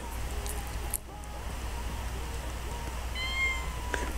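Sims 4 Cats & Dogs game cat meowing, a few short mews spread across the clip over a low steady hum, with brief clicks near the end.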